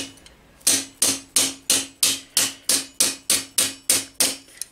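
A hammer taps hinge metal over the edge of an anvil for medieval-style armouring work, about a dozen crisp, bright ringing blows in a quick even rhythm, close and loud.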